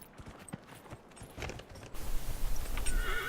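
Horse hooves in the Dragon Age Inquisition video game, a few scattered clip-clops that give way to a louder, steady galloping patter with a faint tonal chime in the background.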